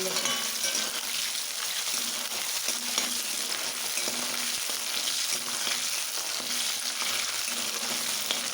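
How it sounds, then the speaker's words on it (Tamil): Small onions sautéing in a pan for a Tamil okra tamarind curry, giving a steady, close sizzle of frying with faint stirring scrapes throughout and no talking. "சின்ன வெங்காயம் போட்டு நல்லா வதக்கணும் நல்லா பொன்னிறமாக"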